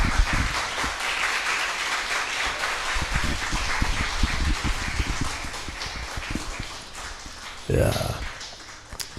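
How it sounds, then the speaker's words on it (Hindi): A seated audience claps and shouts on cue during a Hindi Christian teaching session, with steady mid-level clapping mixed with voices and a brief louder burst near the end. "ज़रा ताली चीखना चिल्लाना।"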